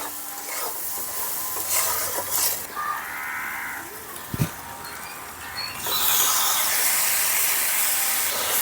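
Tomato and spices sizzle in a frying pan while a utensil stirs and scrapes, with a soft hiss, a knock midway and a louder, brighter sizzle building toward the end.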